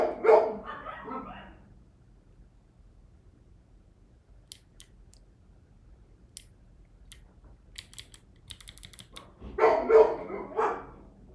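Dogs barking inside a house, a few sharp yaps scattered through quiet near the middle, with louder barking bursts at the start and end.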